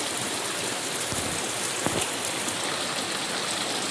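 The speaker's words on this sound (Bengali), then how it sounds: "অবশেষে আজকে বৃষ্টি।" Steady rain falls outdoors in the Sundarbans after days of cloudy, windy weather, a dense continuous hiss of drops on surfaces with a couple of faint knocks, no voices.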